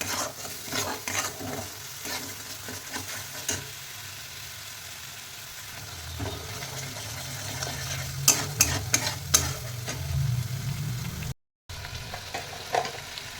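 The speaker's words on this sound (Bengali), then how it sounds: "দিয়ে মশলাটাকে ভালোভাবে কষাবো।" Spice mix with chili powder and coriander powder sautéing in a pan, a continuous low sizzle with frequent scraping stir strokes throughout, quiet and close with no voices.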